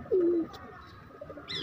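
A single soft coo from a green Madras pigeon, about a third of a second long and fairly close, followed by quiet background noise and faint rustling.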